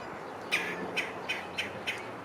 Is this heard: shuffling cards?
no